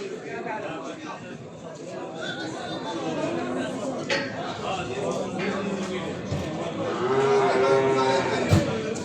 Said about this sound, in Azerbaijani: Bax belə bordağa gedən danalar var qardaş